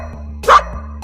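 Single short dog bark, fairly close and loud, standing out briefly against a low steady hum.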